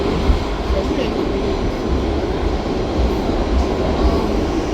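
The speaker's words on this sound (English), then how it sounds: "We on a W train." A New York City subway W train rides along, its loud continuous rumble and rail roar filling the car with faint clicks over the tracks and voices in the background.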